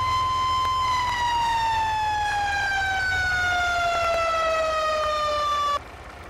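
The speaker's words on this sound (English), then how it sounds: "I'm going to turn the siren off because that is rather loud" A loud wailing US fire truck siren in Farming Simulator 22 with a slowly falling pitch sounds continuously over a low engine rumble, then cuts off abruptly near the end.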